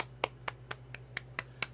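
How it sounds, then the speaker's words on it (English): Hands clap seven times at an even, unhurried pace, each clap short, crisp and fairly soft over a steady low electrical hum, with no talking. "Clapping over here so I don't pop your ears open."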